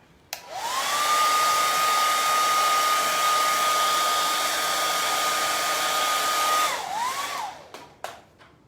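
A hair dryer runs close and loud, drying a watercolor painting of a cardinal, with a steady whine for about six seconds before it cuts off and winds down, followed by a few faint clicks.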